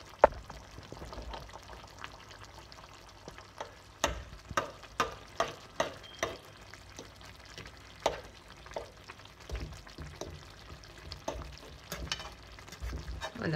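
An egg cooks in tchakchouka while a fork stirs it, giving quiet, irregular clicks and taps against the pan over a faint low sizzle, close but soft throughout.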